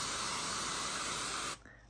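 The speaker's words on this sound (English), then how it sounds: "I love this spray." A continuous hiss from a root touch-up hair color spray can, applied to graying roots, held steady and close for about a second and a half before cutting off abruptly.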